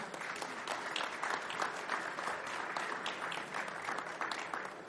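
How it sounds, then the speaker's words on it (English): Audience applause for a panel at the close of a technology session, steady sustained clapping from a room of attendees, fairly faint and even. "Let's have a round of applause for the panel."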